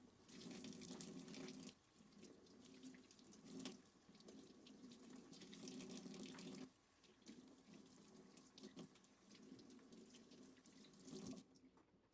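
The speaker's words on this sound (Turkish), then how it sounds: "Yufkalarımı musluk altında arkalı önlü olacak şekilde her tarafını ıslatıyorum." Tap water runs over dry yufka pastry sheets as they are wetted on both sides under the faucet, coming in several separate bursts of splashing flow with short pauses between them.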